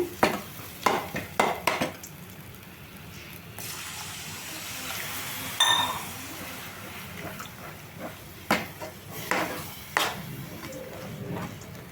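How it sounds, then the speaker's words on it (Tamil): Coconut milk mixed with ground cashew stirred into a simmering paneer gravy in a pan, with intermittent clinks of a spoon, liquid sloshing and soft bubbling, close up with no talking. "இப்போ தேங்காய் பால் ஊற்றணும்."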